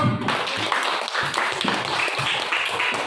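Children in a classroom clap their hands at the end of a lesson, a lively patter of many small hands that keeps up at even strength for a few seconds.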